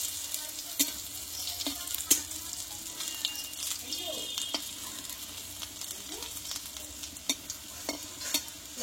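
Bora fritters frying in hot oil give a soft continuous sizzle, with occasional sharp clinks and scrapes of a utensil turning them in the pan; quiet and close.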